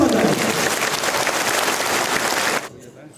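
An audience at a live social event claps loudly in sustained, dense applause that cuts off sharply near the end.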